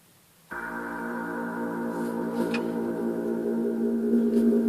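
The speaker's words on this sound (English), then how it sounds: "had an atmosphere sound in here, which will sound like this" A sustained synthesizer pad fades in and holds steady, thick layered tones droning and gradually swelling louder, with no other sounds.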